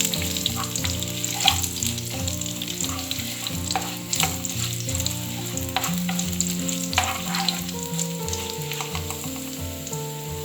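Ginger frying in hot oil with curry leaves and pandan leaves: a steady, close sizzle with light stirring clatter, no voices.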